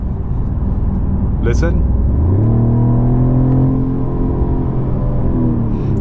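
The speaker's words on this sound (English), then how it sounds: "boosting the 6-cylinder sound, giving us a very nice sporty touch" A Mercedes-Benz CLE450 coupe's six-cylinder engine, its sound boosted through the cabin, hums steadily and then climbs in pitch as the car accelerates, loud and close from inside, with a voice briefly speaking over it.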